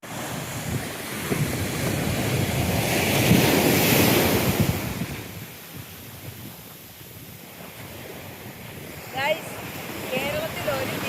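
Sea waves wash onto a quiet Kerala beach, swelling into a loud surge and then easing back, with gusting wind buffeting the microphone throughout.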